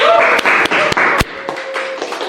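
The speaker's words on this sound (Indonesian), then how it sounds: "Terima kasih tepuk tangannya" Audience applause for two players, Farah and Vela, after a picture-guessing game on a talk show: dense, steady clapping that carries on throughout, with a few voices audible over it.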